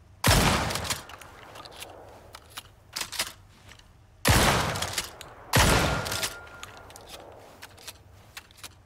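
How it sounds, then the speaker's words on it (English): A shotgun fires buckshot in the survival game Icarus: three loud, sharp blasts spaced apart, each with a crackling tail, plus smaller clicks and clacks of handling in between. "So next up is the shotgun, and we're going to just show a little bit of the buckshot"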